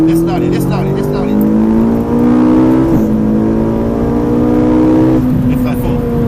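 A Ferrari 458 Italia engine revs hard on the Mettet race circuit, a loud, close, sustained high-pitched wail that rises steadily, dips briefly at a gear change, then climbs again before easing off.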